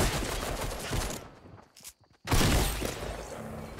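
Bursts of gunfire in the Fortnite video game, dense and loud, cutting out briefly to near silence before resuming heavily.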